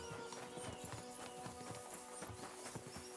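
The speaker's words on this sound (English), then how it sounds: "We should spur the horses on." Horses trotting in a video game, a quick run of hoof clip-clops in an even rhythm, quiet and mid-distance, with no talk over them.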